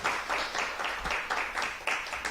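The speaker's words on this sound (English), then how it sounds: "can we just give them a big round of applause and just show them our thankfulness" An audience claps in thanks for webinar organisers, producing a rhythmic series of pulsing bursts, close and fairly loud, with no talking.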